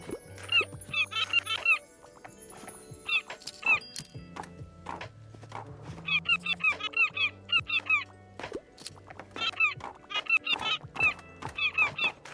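A bird in the video game Tiny Bookshop honks and squeaks in short, repeated bursts of clustered calls, with low tones sounding between the bursts.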